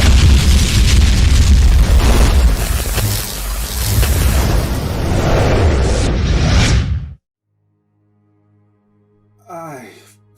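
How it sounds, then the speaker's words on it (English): A booming explosion in a Warhammer 40k audio drama, a loud sustained rumbling blast with debris and roar for about seven seconds, cutting abruptly to near silence before a faint rising whoosh at the end. "was that an explosion?"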